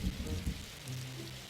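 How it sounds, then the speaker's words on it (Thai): Steady rain falls in a Roblox survival game set in a forest, a soft continuous hiss of drops with faint low rumbling underneath, fairly quiet and without voices. "ในเกมฝนตกทำไมมันแบบ แปลงผักไม่เปียก"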